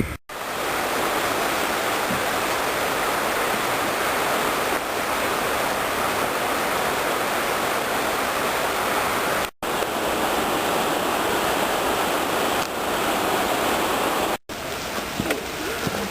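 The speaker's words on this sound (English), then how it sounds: "How about these rocks and river water?" River water rushing over rocks in autumn Okutama, Tokyo, a continuous broadband roar, steady and fairly close, with no talking.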